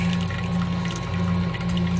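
Steady running water with a low pump-like hum during homebrew mash runoff collection for an ESB, continuous and fairly loud throughout with no talking.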